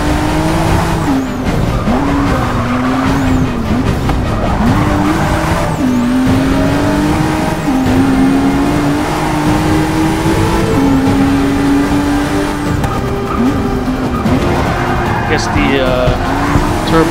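A 2017 Ford GT in the racing game Forza Motorsport 6 makes a steady, loud engine rumble with shifting pitch as it accelerates and slows. Tires squeal through corners while someone talks over it continuously.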